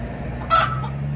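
A single short, sharp cluck from a nearby hen at the Desert Inn hotel cuts through a steady low background rumble.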